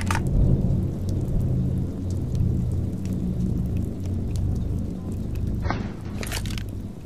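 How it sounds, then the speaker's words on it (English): Steady rain with low rumbling thunder throughout, a continuous dense wash of noise heard from inside a reaction setting, with a brief brighter crackle near the end. "But you gotta feel the rain"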